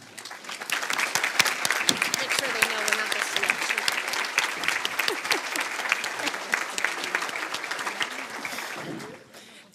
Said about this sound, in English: would you all please stand while we give you a round of applause for your efforts for making tonight possible